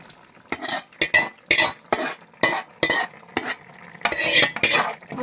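Potato roast is stirred into chicken curry in a pot, giving a series of sharp scraping strokes from a spoon against metal, roughly eight in a row, over a faint sizzle with no speech.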